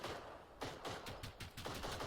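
Rapid bursts of gunfire crackle through a firefight in the video game Generation Zero, dense and overlapping, with sharp repeated reports over a constant noisy background.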